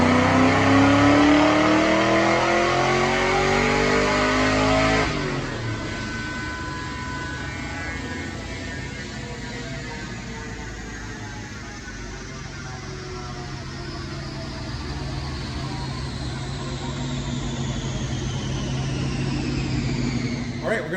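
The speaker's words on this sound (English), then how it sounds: "Check out this dyno pull" A 2001 Mustang Bullitt with a 4.6L two-valve V8, Vortech V2 supercharger, Comp Cams stage 1 cams and BBK long tubes, loud and close as it climbs in revs on a dyno, then a sharp shift to a sustained steady roar.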